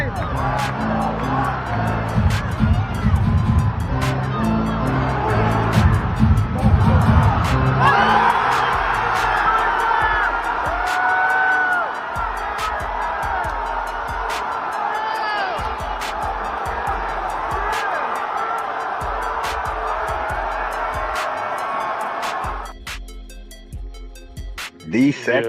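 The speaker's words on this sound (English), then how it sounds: "Let's see what the crowd looked like in there, because that was crazy." Basketball arena crowd roaring and cheering after R.J. Barrett's buzzer-beater in an NBA playoff game, a loud sustained wall of voices and whoops that holds steady before dropping off near the end.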